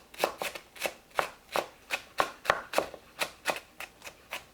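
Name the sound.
chopping green onions finely with a knife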